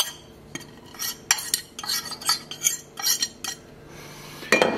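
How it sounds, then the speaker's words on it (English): A fork stirs flour and starch into potato dough for meat-filled potato pancakes, giving a run of irregular clinks and scrapes against the bowl, close and fairly clear, with short pauses and a sharper knock near the end; no voices. "And I'm going to stir this in with my fork."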